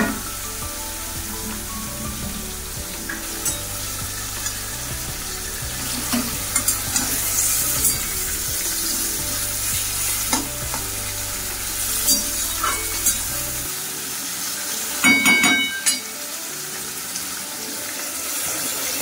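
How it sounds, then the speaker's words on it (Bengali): Mourola fish and vegetables fry in oil with a continuous close sizzle, scattered stirring clicks and a few sharper bursts of spattering, under faint background music. "তো মাছগুলো তেলের মধ্যে দিয়ে দিচ্ছি বন্ধুরা।"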